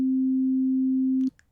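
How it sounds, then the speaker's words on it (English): A single steady synthesizer sine wave holds one pure low-pitched note for about a second and a quarter, then cuts off abruptly, followed by a couple of faint clicks. "each one of these harmonics is a sine wave"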